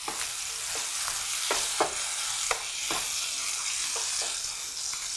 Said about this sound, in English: We'll stir them around.